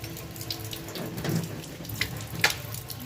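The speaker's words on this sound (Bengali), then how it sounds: "হাতটা ধুয়ে নিই" Running tap water splashes over hands being washed at a kitchen sink after marinating chicken with spices, a steady close hiss with small splashes and no talking.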